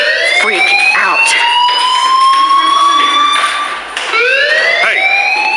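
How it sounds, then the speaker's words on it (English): A fire alarm rings in the video game Life Is Strange, a loud continuous electronic wail with rising sweeping tones that repeat steadily, briefly dipping near the end before resuming at full strength. "do you hear that fire alarm?"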